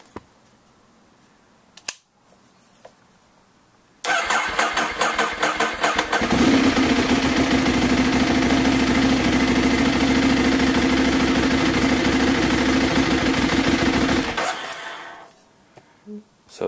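Ducati Streetfighter motorcycle engine cranks over with rapid starter pulses, catches and settles into a loud, steady rumbling idle for several seconds, then shuts off into quiet.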